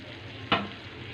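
A spoon stirs okra masala seasoned with cumin and ground coriander in a pan, a single sharp scrape over a soft background sizzle, close and brief, with no talking.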